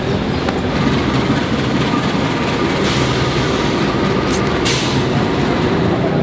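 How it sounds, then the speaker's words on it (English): An Indonesian passenger train rolls into a station platform with a steady rumble and clatter, joined by brief high squeals of wheels or brakes partway through. "Keretanya baru mau masuk."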